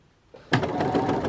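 A sewing machine starts up and runs steadily at close range, its needle stitching a bodice seam in a fast, even mechanical patter after a brief quiet moment.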